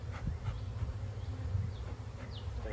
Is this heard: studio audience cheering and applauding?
no